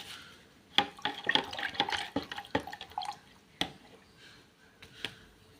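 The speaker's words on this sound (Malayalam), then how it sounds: "ഇത് നന്നായിട്ടൊന്ന് മിക്സ് ചെയ്യുക വെള്ളം" Hydrogen peroxide and water being mixed in a container, giving irregular clinks, taps and small liquid splashes, close and fairly light, coming in quick clusters and then thinning out toward the end.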